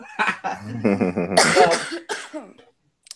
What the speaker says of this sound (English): I'm having a little coughing fit right now.